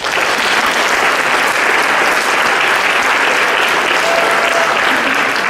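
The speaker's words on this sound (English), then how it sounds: "Let's give those students a round of applause again." Sustained applause from an audience at an alumni hall of fame ceremony honoring students, many hands clapping in a dense, even roar that holds steady and loud from start to finish with no talking over it.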